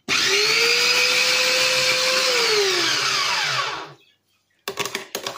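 A food processor grating apples runs with a loud whining motor whose pitch sags as it works, then spins down and stops, followed by a few short clattering knocks.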